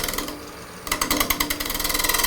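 A bowl gouge cutting a wooden bowl on a spinning lathe, a rapid rhythmic chattering of the tool against the rotating wood over a steady motor hum, close and loud.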